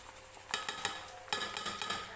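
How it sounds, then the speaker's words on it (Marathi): A spoon scrapes and clinks against a pot as jaggery is stirred into cooked wheat for kheer, a series of faint, irregular taps and scrapes close by with no talking. "हे बघा, अशा पद्धतीने चमच्याने मिक्स करते मी"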